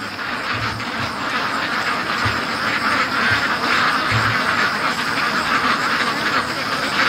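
Pet ducks rushing home from the lake keep up a dense, loud quacking chorus close by, with a few low thuds mixed in near the start.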